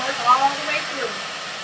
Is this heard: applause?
no